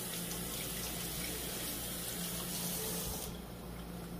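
Tap water runs steadily into a kitchen sink to soak a clean dish towel, a continuous close gushing flow with no speech.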